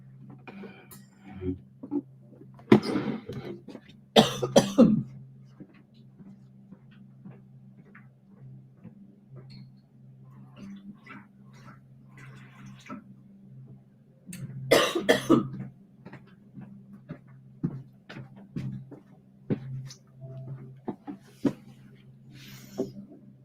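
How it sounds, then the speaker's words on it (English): Two or three bursts of harsh coughing, close by, separated by quieter stretches over a steady low hum with scattered small clicks. "it's making me cough"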